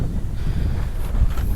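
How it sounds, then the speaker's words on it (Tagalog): Strong wind sweeping across the open grounds of Borongan City airport, heard as a low, continuous buffeting rumble against the microphone for a short stretch, with no voices. "medyo malakas-lakas yung hangin"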